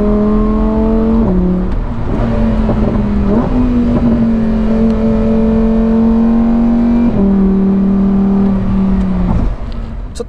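A Lamborghini Huracán STO in Trofeo mode accelerates hard, its engine close and loud, pitch climbing steadily with sharp drops at each upshift through several gears, heard alone without talk.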